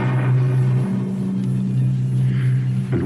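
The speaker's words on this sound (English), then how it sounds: "heard the approaching thunder of horses' hooves" Radio drama sound effect of approaching horses' hooves, a loud steady low rumble rolling on without pause.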